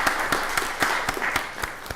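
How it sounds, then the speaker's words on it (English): Short burst of applause and clapping at a county board of commissioners meeting, a room of hands clapping steadily with sharp irregular claps over a bright noisy wash, no voices. "How about a round of applause for fall?"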